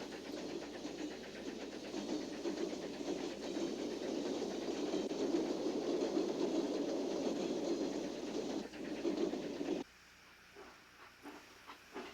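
A streamlined passenger train with Henry Dreyfuss styling rolls past in a steady rushing roar with faint rhythmic clatter for about ten seconds, then cuts abruptly to a much quieter scene with light background noise.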